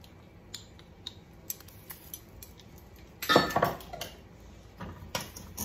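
A spoon clinks and scrapes in a pot while vegan garlic and herb cheese is stirred, with soft intermittent taps and a louder burst of metallic scraping midway, quiet and close with no talking.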